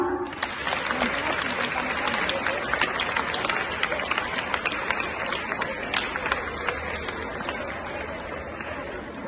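Audience applause at an award ceremony honouring a retired teacher, steady dense clapping throughout with crowd noise, sustained and fairly loud with no talk over it.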